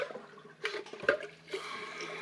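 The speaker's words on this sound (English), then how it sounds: "Let's try the small flush and make sure it works." A small flush of a TOTO Aquia IV toilet gives a short, close rush of water in a few uneven surges, then settles into a quieter trickle of refilling.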